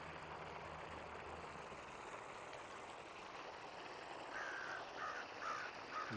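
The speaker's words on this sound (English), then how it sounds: "And the crows cawing." Crows caw near a creek bridge, with calls rising in the last seconds over a loud, steady wash of falling water from a nearby waterfall that fills the whole scene.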